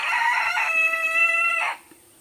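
A rooster lets out a single loud, close crow with a clear rising-and-held call that cuts off sharply, followed by quiet farmyard background.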